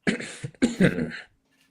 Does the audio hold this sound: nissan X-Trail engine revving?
no